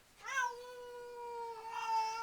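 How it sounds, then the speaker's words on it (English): Two house cats meow at feeding time, one long, clear drawn-out meow followed by a second rising cry, close and loud in a quiet room. "This is the usual food time in this house. We've got the two cats down here."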